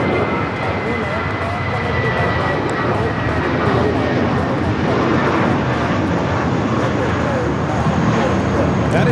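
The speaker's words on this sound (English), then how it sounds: "That is Spirit Airlines 2018 taking off to Chicago on the A320" A Spirit Airlines Airbus A320 takes off from LAX bound for Chicago, its jet roar loud and steady and filling the whole span with no letup.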